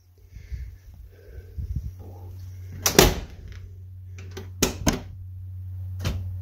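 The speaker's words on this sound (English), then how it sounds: "You hear the seats clicking." Lincoln Continental car door shutting with a solid thump, followed by a quick series of sharp mechanical clicks as the seat locks engage, near and distinct over a low steady hum.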